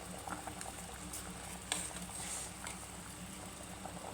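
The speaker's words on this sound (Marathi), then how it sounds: "शेवगाच्या शेंगाला उकळी आलेली आहे" Drumstick pods boil in a pot of water, a soft continuous bubbling simmer with small pops and patters, faint and close, no voices.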